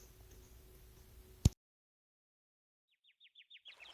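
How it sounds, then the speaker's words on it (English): A quick run of high, bright bird chirps rises out of silence, repeating in a rapid series after a sharp click and a stretch of quiet. "The sound of the flowing river and chirping birds echoed through the garden."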